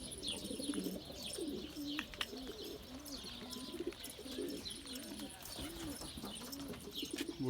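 Pigeons coo steadily in a backyard coop, soft repeated rolling calls layered over one another throughout, with occasional chirps and faint wing or movement noises nearby.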